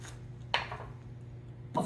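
A knife trims the top off a rinsed eggplant on a cutting board: one sharp cut with a short scraping follow-through, then a second cut near the end, close and fairly quiet with no talk.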